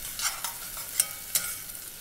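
Mushrooms cooking in a pan over fairly high heat for a porcini sauce, a soft sizzle broken by several quick stirring scrapes, close and alone.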